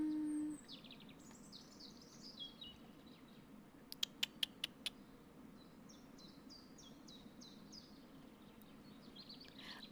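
Faint bird calls from the Wingspan board video game: scattered high chirps and a quick run of sharp tweets over a quiet hum.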